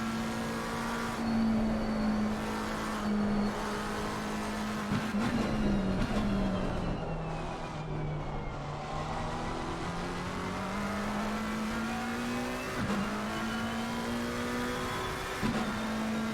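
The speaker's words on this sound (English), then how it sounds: "Let's go on board for this lap with Jake Wells." An onboard lap of a race car in a racing video game at Oulton Park. A steady, loud engine drone rises and falls through the gears, with brief shifts and a faint tire squeal and no talking.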